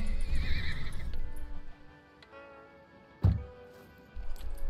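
A horse in the video game Scum neighs in a loud whinny, followed by hoof clip-clops and a low snort against quiet ambient background.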